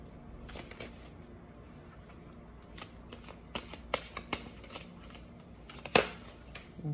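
Tarot cards being shuffled by hand, a run of soft riffling flicks and slaps that builds into sharper snaps near the end, close up with no talk.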